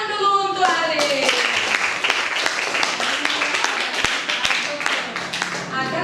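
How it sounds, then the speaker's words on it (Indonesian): A school class applauds a student named Arif, with a dense burst of many hands clapping close by that carries on steadily to the end. A voice is heard briefly at the start. "Bagus sekali, tepuk tangan dulu untuk Arif"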